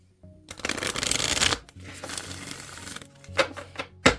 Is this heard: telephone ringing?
no